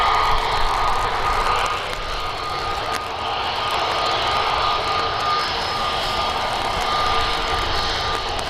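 Aircraft taking off at Birmingham airport, a loud continuous engine roar with steady broadband rumble and whine, close and unbroken with no talk.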